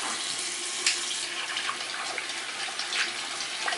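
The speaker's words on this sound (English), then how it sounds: "I'm gonna keep the water on cool" A bathroom sink tap runs steadily while hands are washed, a close continuous hiss of flowing water with small splashy variations and no talk.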